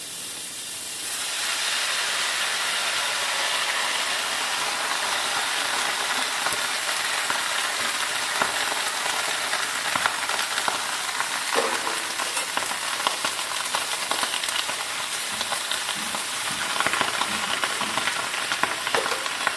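Sliced bottle gourd hits hot oil in a pan and breaks into a loud, steady sizzle and hiss that continues close up throughout with small crackles.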